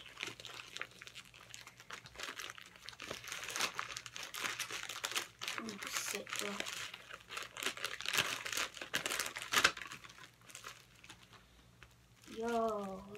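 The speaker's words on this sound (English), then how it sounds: "rip it open" Plastic mailer packaging for a tie-dye T-shirt is torn open and crumpled at close range, with dense crinkling and ripping throughout, and a voice speaks briefly near the end.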